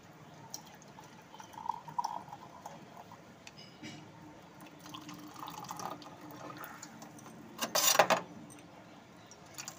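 Tea poured from one vessel into another in a home kitchen gives a faint trickle with small drips and ticks, then a brief louder splash near the end, heard alone without talk.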